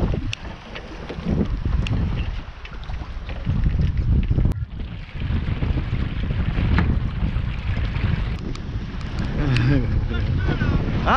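Strong wind roaring across a microphone aboard a small mini sailboat, a heavy continuous low rumble with gusts and water sloshing, and a person's voice breaking through now and then.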